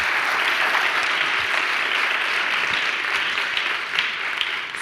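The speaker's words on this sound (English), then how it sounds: "An applause." Workshop audience applauding steadily for several seconds, a dense even patter of clapping throughout with no talk over it.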